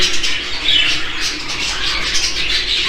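Show jumbo budgerigars squawk and chatter continuously, a dense flock of bright, shrill calls filling the whole clip with no pauses.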